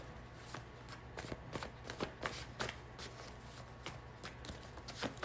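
Tarot cards shuffled to draw one more card make steady, quiet rhythmic flicks and soft slaps repeating for several seconds over a faint low hum, close by, with no talk.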